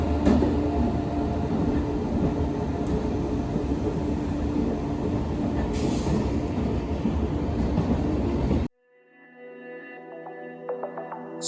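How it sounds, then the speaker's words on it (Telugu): An Amrit Bharat express running from Udhna to Berhampur pulls into a station on a trip toward Tirupati, a loud, close, continuous rumble of wheels and carriages that cuts off abruptly, followed by quieter ambient sound. "వస్తుంది కదా ట్రైను. అది వచ్చేసి అమృత్ భారత్ అన్నమాట."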